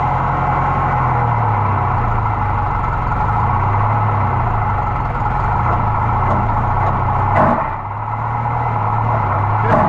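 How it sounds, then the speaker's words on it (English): John Deere 43 corn sheller turning under power with its slip clutch slipping, a steady loud mechanical drone and rumble with a brief rattling burst near the end before the churning resumes. "The slip clutch works."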